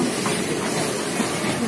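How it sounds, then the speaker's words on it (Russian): A narrow-gauge steam locomotive hauls several wagons along a mountain railway in Moldovița, Romania, producing a continuous rumbling, hissing rail noise at steady loudness with no distinct clicks or voices. "У нас идет паровоз. Здесь несколько вагонов."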